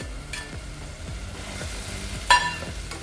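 Potato cubes stirred into a spice masala with a little water in a pan for dhaba-style puri bhaji, giving a soft, steady sizzle and repeated scraping strokes, with a brief sharper clatter near the end.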